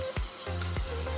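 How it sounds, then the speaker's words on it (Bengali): Chopped green chillies frying in a pan, a steady close sizzle broken by two sharp spattering pops, loud and alone with no voices. "আমি কিছুটা ভাজা হতে দিয়ে দিচ্ছি কাঁচা লঙ্কা কুচি"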